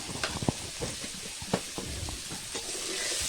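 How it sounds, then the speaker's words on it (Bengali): Paneer and vegetables fry in a pan with turmeric and salt while a spatula stirs them, giving a steady close sizzle broken by several sharp scraping clicks. "আবার খুন্তি দিয়ে নাড়ছি, ভেজে নেব, লাল করে ভাজবো।"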